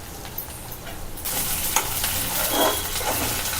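Onions sizzling in hot oil with stirring, a soft hiss that swells louder partway through and stays steady, close by with no talk.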